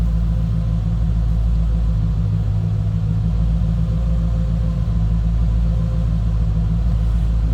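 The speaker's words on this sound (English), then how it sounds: "Nice, deep, throaty exhaust note." A deep, steady exhaust rumble from a 1988 Chevrolet Corvette Convertible with a Greenwood kit idling close by, low and throaty, with no talking over it.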